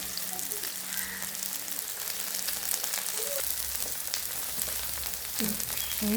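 Peanuts, onions, ginger and garlic fry in hot oil with a steady, close, crackling sizzle and scattered pops throughout, and no one is speaking.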